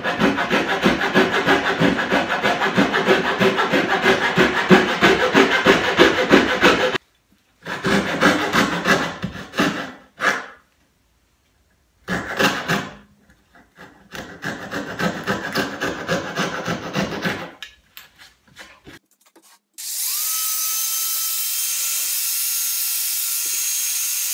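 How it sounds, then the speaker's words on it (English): A coping saw cuts a small radius corner in wood while building a portable outfeed table workbench: close, rhythmic rasping strokes in steady runs broken by short pauses, then a steady hiss near the end. "Once I get it started with the coping saw, cut it right off"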